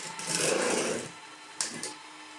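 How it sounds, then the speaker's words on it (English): A Neatsvor T10 cordless mop runs with a steady mechanical whir that swells for about a second, then drops to a quieter hum, broken by two brief clicks or knocks near the end. "I'll turn it on. Not mopping very well at all."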